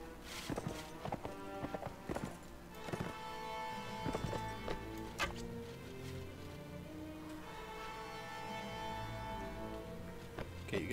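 Horses in the Mount & Blade video game clatter with quick, repeated hoofbeats, a steady clip-clop of running mounts mixed over busy game sounds and music-like tones.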